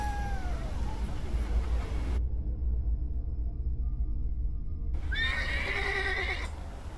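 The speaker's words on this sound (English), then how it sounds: "I meant to take the horse out for a ride" Video game horse out for a ride, neighing in a rising whinny, then a brief silence before a second whinny with clip-clopping hooves, close and clear.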